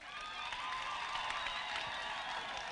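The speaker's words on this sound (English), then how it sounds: "can I have the graduates clap for our dear parents?" Graduates clapping for their parents at a university graduation ceremony in Uganda, a steady, dense wash of applause from a large crowd that holds at an even level throughout, with no speech over it.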